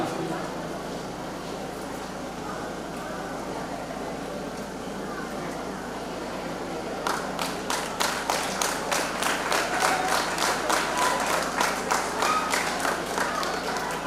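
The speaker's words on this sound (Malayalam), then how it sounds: "നിറഞ്ഞ കൈയടിയോടെ ഇവരെ ഈ സ്കൂളിലേക്ക് നമ്മൾ സ്വാഗതം ചെയ്യുകയാണ്" New students are welcomed at a 2024 school entrance ceremony: a murmuring hall with talk gives way to rhythmic, steady group clapping that continues to the end.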